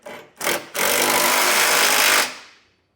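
A power tool with a 3/4 inch socket runs down hitch bolts on a trailer hitch receiver install, two short bursts followed by a sustained whirring run of about a second and a half, then spinning down.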